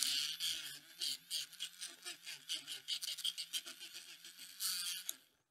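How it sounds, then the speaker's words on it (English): An electric mixing stick, battery-powered and working like an electric toothbrush, stirs a soil sample in a test tube for a soil microbe test, making a steady buzzing hum in short rhythmic bursts, close and fairly quiet, with no talk. "Comes with a handy mixing stick. Works just like an electric toothbrush"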